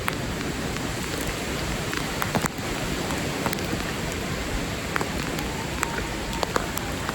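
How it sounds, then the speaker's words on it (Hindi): Heavy monsoon rain pours steadily in Matheran, a dense, continuous hiss with scattered close drops tapping near the microphone throughout. "बारिश बहुत ही तेज़ है।"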